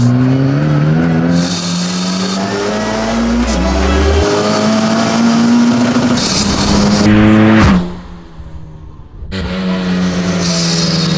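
An Ariel Atom 4R accelerates hard in second gear, its loud engine note climbing in pitch through repeated rising sweeps, briefly dropping between pulls before surging again up close.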